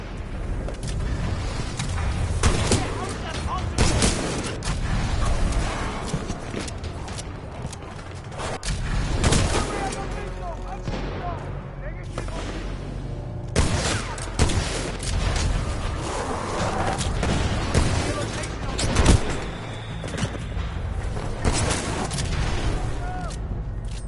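Gunfire in the video game Titanfall 2 during a hostile attack, with booming shots and scattered bursts over a steady, rumbling battle background, while voices speak at times.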